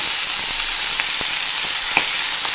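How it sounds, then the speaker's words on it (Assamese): Frying on a low flame makes a continuous soft sizzle with a few brief stirring clicks and scrapes, close and with no talking. "ইয়াত মই কম জুইত ভাজি থাকিম"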